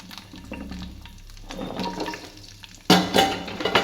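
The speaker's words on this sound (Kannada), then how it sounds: "ಫ್ರೈ ಆಗ್ತಾ ಇದೆ ಬೆಂಡೆಕಾಯಿ" Sliced okra fries and gets stirred in a pan for Udupi-style sambar, giving a soft sizzle with scraping and stirring, then a sharper, louder clatter near the end.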